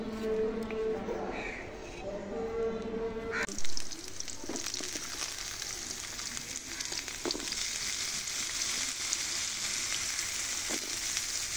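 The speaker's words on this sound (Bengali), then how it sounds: "এখন আলু আর বেগুনগুলো ভেজে নেব।" Potatoes and eggplant frying in oil, a bright continuous sizzle that starts suddenly after a short quieter stretch with a faint voice, then carries on steadily with occasional stirring clicks.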